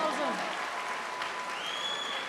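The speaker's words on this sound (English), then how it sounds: "Big round of applause though." A crowd claps at a book launch just after a copy sells at auction, a brief burst of steady applause with a voice carrying over it.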